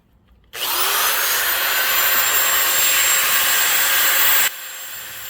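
A Stone Fabrication wet polisher spins a diamond pad against the rounded outer surface of a rock, a loud, steady high-pitched whine that starts abruptly, holds for about four seconds, then drops off sharply, with no talk.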